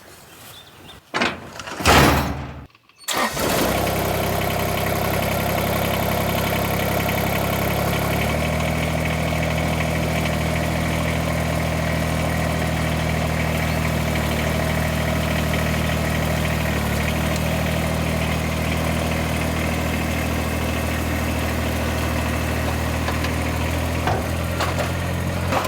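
A lawn mower starting after a few sputters and clunks, then running at a steady loud drone, its pitch shifting once as it settles into a continuous mowing roar.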